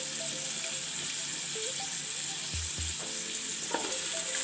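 Sliced onions and garam masala frying in oil in a pan, a steady close sizzle under soft stirring, with a couple of low thumps midway and light clatter, no voices.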